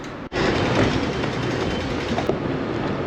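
A train rumbles steadily through Southern Cross Station in Melbourne, a loud, continuous clatter and roar of rail cars that fills the whole stretch with no voices.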